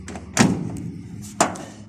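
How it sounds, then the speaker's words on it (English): The driver door of a 1969 VW bus under restoration, rusty body being readied for filler, opens with a sharp metallic clack and then shuts with a solid thunk, two distinct close knocks about a second apart. "Let me show you the driver door opens nicely."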